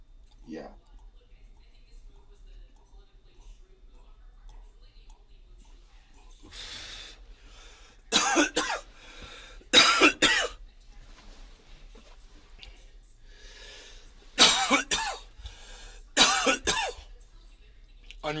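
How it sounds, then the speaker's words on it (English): Several loud, harsh coughs come in bursts, a pair near the middle and another pair near the end, separated by quiet stretches with faint background noise. "Unrestrained coughs are the best ones."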